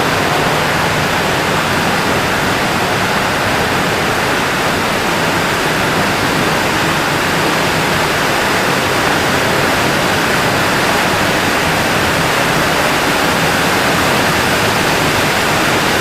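Spring meltwater and rainwater rushing through a drainage tunnel under the mountains: a loud, unbroken roar of flowing water that fills the whole space, steady from start to finish with no voices.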